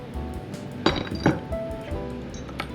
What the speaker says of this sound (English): Show off my cool nut collection. Let's get some nylock nuts.